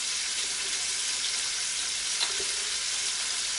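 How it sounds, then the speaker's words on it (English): Cabbage and bacon sizzle in a stock pot, giving a steady, close frying hiss that continues unbroken with faint stirring underneath. "And what you do is you get it sizzling like this"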